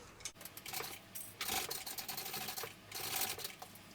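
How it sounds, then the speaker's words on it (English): A sewing machine stitching a baby sling, quiet, close bursts of rapid mechanical chatter that start and stop in short runs, with brief pauses between. "So I'm going to go ahead and sew that on."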